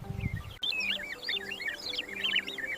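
Oxpeckers on an African buffalo give quick, bright chirps and twittering calls in a steady run, close and clear. A short low rumble comes before the calls begin.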